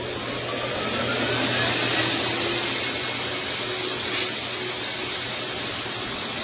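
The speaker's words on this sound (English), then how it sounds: "I'm gonna force dry all the liquid off her until she's damp" A pet dryer force-dries a wet poodle's coat with a steady, loud broadband blowing hiss that runs without a break and briefly shifts in pitch midway.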